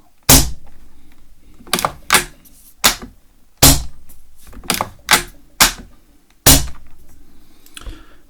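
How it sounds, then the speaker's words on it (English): KC-02 airsoft sniper rifle with a solid-state bolt and underlever kit being racked repeatedly, a series of about nine sharp, close mechanical clacks and thunks in an uneven rhythm, with no talking. "So that you can rack your gun in style."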